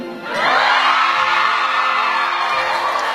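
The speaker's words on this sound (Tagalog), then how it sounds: "Alam ko sisigaw sila." A crowd at a Filipino live show shouts and cheers. The sound swells after a brief start and holds as a dense, loud roar of voices.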